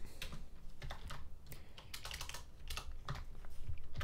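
Rapid keystrokes on a computer keyboard as a short message is typed, irregular clusters of crisp clicks heard close and alone.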